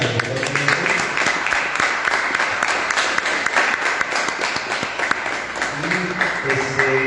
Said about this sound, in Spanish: un fuerte aplauso para el conferencista